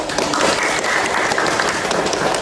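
A small group claps together in a dense, steady round of applause that lasts a couple of seconds.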